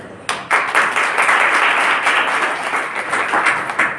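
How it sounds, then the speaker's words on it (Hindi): Worshippers in a church hall break into a round of clapping that starts abruptly and holds as a full, even wash of applause for about four seconds, with no talking over it. "अच्छा, प्रभु के लिए बजाओ जरा"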